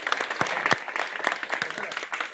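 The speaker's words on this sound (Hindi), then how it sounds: "शानदार तालियों के बीच में वेलकम" An audience applauds as people are called onto a stage, a dense, continuous round of clapping with a few louder individual claps over a roomy background.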